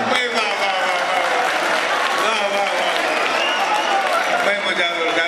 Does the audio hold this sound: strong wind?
no